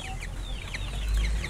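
Free-range village chickens on a farm clucking continuously, several birds overlapping in quick chattering calls over a low rumbling background.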